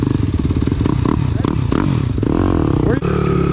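A pit bike's engine revs hard as its rear wheel spins in deep mud on a muddy trail, a loud continuous drone with clattering and thuds, while someone talks over it.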